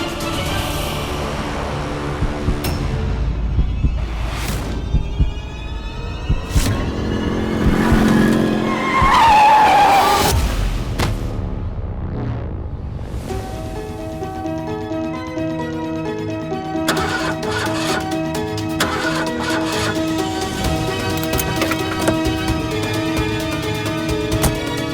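A car is driven hard and recklessly, its engine revving loudly while tyres skid and squeal in repeated bursts that build into a sustained roar, with no talk over it.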